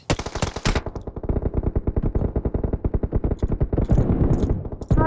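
Automatic gunfire in PUBG Mobile, a loud, close, rapid burst that repeats through most of the clip, with a short break near the start and fainter shots layered near the end.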